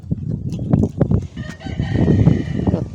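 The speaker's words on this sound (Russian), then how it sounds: "И петух поет." A rooster on a village farm crows at moderate distance amid hen clucks and rustling, with no talk.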